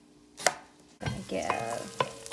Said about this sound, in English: give our onions a quick stir.